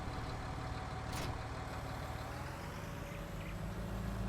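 A tractor engine idles in the Farming Simulator 19 video game, a steady low rumble that holds even from start to end, with a brief higher hiss partway through.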